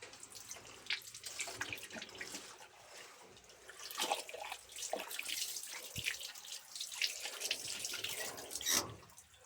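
Tap water runs and splashes while a dressed broiler chicken is washed under it, a continuous close wet gushing with irregular splatters and drips, steady throughout with no talking.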